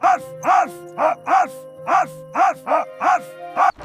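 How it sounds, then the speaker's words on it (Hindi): A dog barks loudly about eight times in a steady, evenly spaced rhythm, each bark sharp and close. "वो जोर जोर से भौंकने लगा"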